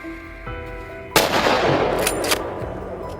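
A single sharp rifle shot from a hunter firing at a wild boar, a loud close crack followed by a rolling echo and a few faint clicks.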